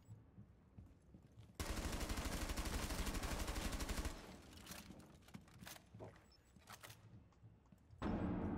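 Rapid automatic gunfire from a Rainbow Six Siege match, a loud dense burst lasting a couple of seconds followed by scattered single shots and clatter, then another loud burst at the end.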